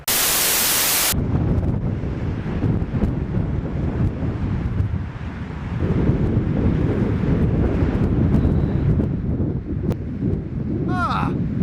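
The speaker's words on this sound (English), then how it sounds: "It's so windy." Strong wind roars and buffets the microphone continuously, a loud rushing noise that fills the whole stretch with little letup.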